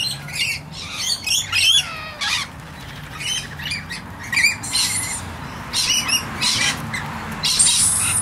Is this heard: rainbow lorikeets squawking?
yes